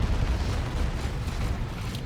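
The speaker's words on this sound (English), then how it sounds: "Plague Champion makes your unit explode on death, doing damage, knocking back and healing allies." A Plague Champion unit blows up on death in Dawn of War 2, a Chaos Space Marines versus Orks battle, heard as a dense, sustained rumbling blast with crackling debris over roughly two seconds, loud and continuous.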